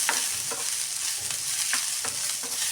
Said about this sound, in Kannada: ಅದಕ್ಕಂತ 1-2 ಸ್ಪೂನ್ ಎಣ್ಣೆ ಹಾಕಿ ನಾನು ಹುರಿತಾಯಿದ್ದೀನಿ